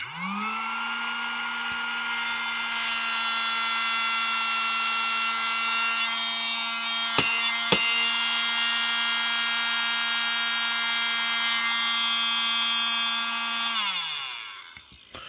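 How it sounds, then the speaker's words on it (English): A small USB mini desk vacuum's fan whirs up and runs off balance with a steady high-pitched whine and slight wobble, close by, then spins down at the end. "the fan already sounds off balance"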